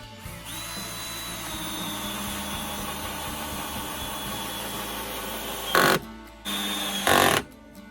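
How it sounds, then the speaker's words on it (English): Power drill or impact driver driving screws into wooden deck framing, a steady whirring run for several seconds under faint background sound, followed by two short louder bursts near the end. "Now you gotta put the screws in all the way down."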